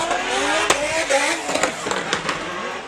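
A 1JZ-swapped Toyota AE86 drift car works a track, its engine roaring steadily with sharp bursts and pops amid broadband tire and crowd noise; no voices stand out.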